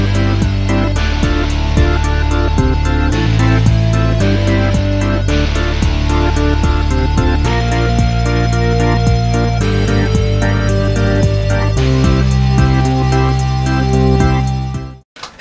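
Synth beat built with Xpand!2 in Pro Tools, loud and continuous, with sustained pad chords changing every couple of seconds over a punchy, regular drum pulse and bright repeated ticks, ending abruptly.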